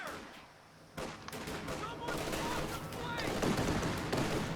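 Aircraft strafing run in the Company of Heroes 2 World War II strategy game, with bursts of rapid machine-gun fire and dense gunfire that build into a loud, continuous barrage over battlefield noise.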